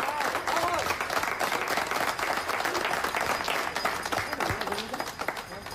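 Villagers applaud as their quarantine ends, a steady crowd of clapping hands at moderate distance lasting throughout, with a voice speaking over the applause.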